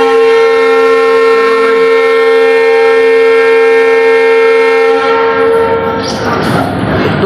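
The Kamrup Express blares a loud, sustained horn as it departs the station, the steady tone fading into the rumble of the moving train.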